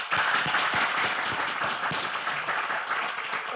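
An audience at a small business week celebration, the first in-person live event in a while, breaks into a steady round of applause, dense and fairly even clapping throughout with no talk.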